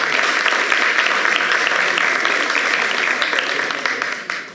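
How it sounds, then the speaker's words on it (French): A studio audience at a televised discussion program breaks into steady applause, dense clapping that holds level then fades slightly near the end. "merci bien, on l'applaudit"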